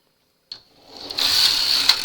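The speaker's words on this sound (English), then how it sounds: "So then we just knit our ribbing back and forth." A domestic knitting machine with a ribber attachment knits ribbing on a double bed as the carriage runs back and forth, giving a short, close whirring rattle that starts with a click and builds to a steady mechanical run.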